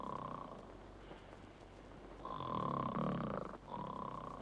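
A man snoring loudly in an Indian film scene, a rough, drawn-out rasping snore that swells into a heavier, louder stretch near the end, with a faint background hum.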